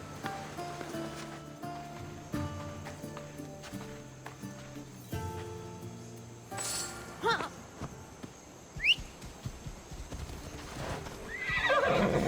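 Hooves of a horse ridden in Assassin's Creed Odyssey, with rhythmic clip-clop strides alongside a whinny and game music, fairly quiet overall, swelling toward the end.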